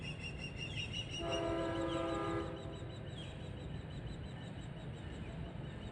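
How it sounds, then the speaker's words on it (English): An Amtrak Acela Express creeps slowly along Metro North track on the New Haven Line, its steady rail rumble running throughout and a sustained horn blast sounding for about a second in the middle, at a moderate distance with no talking. "the ALC Express from Washington to Boston. Creeping right along"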